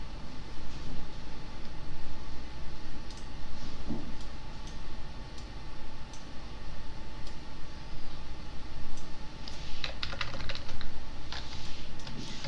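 Quick, light clicks of computer keyboard keys, arrow keys tapped in short irregular runs with sharper bursts toward the end, close and dry over faint background hiss, no talking.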